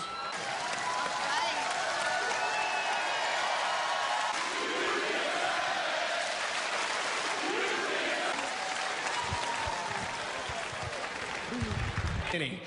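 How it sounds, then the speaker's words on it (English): Arena crowd at a wrestling show giving sustained applause and cheering, a broad, loud wash of clapping and crowd noise lasting throughout, with voices mixed in. "Let's give another round of applause for Carter and Elizabeth"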